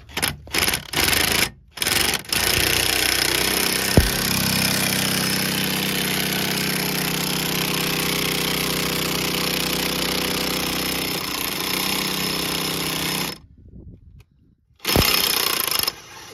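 Worn part on farm machinery near a sprocket being ground off in a North Dakota farm shop, a steady loud grinding roar running about eleven seconds, with brief bursts before and after and a short pause near the end.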